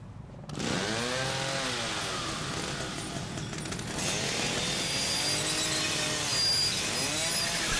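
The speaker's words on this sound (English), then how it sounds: "Let's cut this bitch down, like with a chainsaw." Chainsaw in the horror game The Evil Within, revving up with rising and falling whines over a continuous buzzing drone that starts abruptly and keeps cutting loudly throughout.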